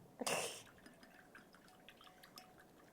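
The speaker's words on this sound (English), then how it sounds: "Oh, I love the swish of the brushes in water." A paintbrush swished in a water cup during miniature painting, one short splashy swirl up close followed by faint scattered drips and light taps.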